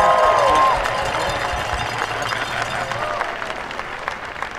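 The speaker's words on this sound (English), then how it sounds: "I'd ask everyone to join me in a quick round of applause for the people doing this important work." Crowd applause at an outdoor 'No Kings' protest rally in Cal Anderson Park, Seattle, as officials take the stage. A dense wash of clapping is loudest at first, then thins slightly and continues steadily, with voices mixed in the background.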